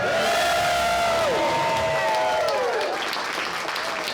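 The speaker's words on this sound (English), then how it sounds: "give them a round of applause" Guests at an 80th birthday party at a catering hall give a loud round of applause, with whoops and cheers over steady clapping and background music.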